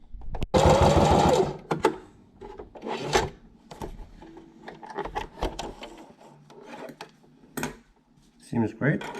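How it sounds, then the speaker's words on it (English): A sewing machine stitches with the needle set to the centre position, running in bursts of loud mechanical whirring with pauses and handling clatter between them. "these days I try to like sew everything with the needle centered"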